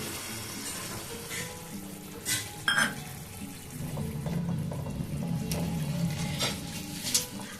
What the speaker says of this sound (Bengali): এখন দিয়ে দেবো আমি দইয়ের বাটি ধোয়া একটু জল